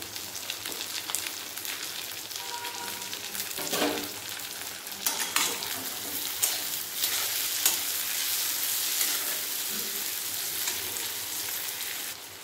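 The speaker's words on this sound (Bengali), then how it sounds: "পেঁয়াজ লাল লাল করে ভেজে নিয়েছি। এর মধ্যে দিয়ে দেবো টমেটো কুচি।" Chopped tomatoes drop onto fried onions in hot oil, a dense steady sizzle with intermittent stirring scrapes and bursts of louder spitting, continuing without speech.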